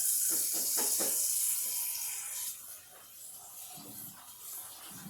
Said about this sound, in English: Try and rinse as much of the starch off as I can.